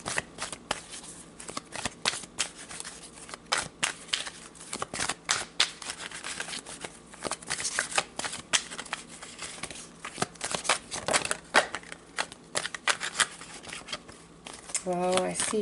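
Tarot cards are shuffled in quick bursts of riffling flutters and soft slaps, close and fairly loud, with talking woven through the shuffling.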